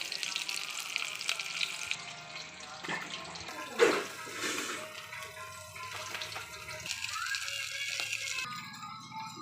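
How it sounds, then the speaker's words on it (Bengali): Fish fries in hot oil in a home kitchen, a soft, continuous crackle and sizzle with a watery hiss and a few clatters, fairly quiet and close. "দেখো আমার মাছ ভাজা হয়ে গেছে।"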